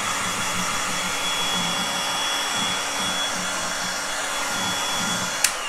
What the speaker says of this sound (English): Reason I'm heat gunning the first layer is because we're trying to work faster